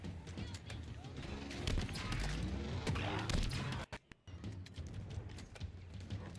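A bandit rifle fires in a video game, a rapid run of sharp shots over a busy mix of game noise. A brief drop toward silence breaks the sound before it resumes.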